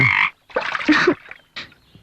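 A frog croaks loudly and close in three harsh, rasping bursts separated by short silences, with no voices over it.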